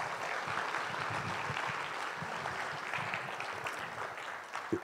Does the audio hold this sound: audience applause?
yes